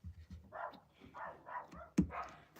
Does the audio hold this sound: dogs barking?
yes